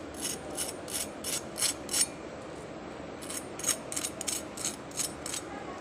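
Crispy fried potato donuts crunched close up in quick bursts, about six sharp crackles, a brief pause, then another run of crunches over a soft background hiss.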